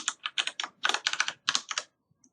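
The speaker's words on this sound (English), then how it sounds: "So I'm going to type in the password." A password being typed on a computer keyboard, about a dozen crisp close keystrokes in quick uneven bursts over two seconds, then quiet.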